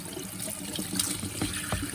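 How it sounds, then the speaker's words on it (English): Warm tap water runs over freshly churned homemade butter to rinse out the buttermilk, a soft steady splashing and trickling close by with small bursts of spatter as the butter is turned. "I'm going to turn a little bit of warm water on here."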